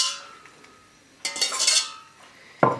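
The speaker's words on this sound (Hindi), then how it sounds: "इसे डालने लगी दोबारा बेकिंग शीट पर" Lemon pepper chicken wings set back onto a metal baking sheet give a few clattering, clinking knocks, one burst of rattling in the middle and a sharp final clank, close by with no talking.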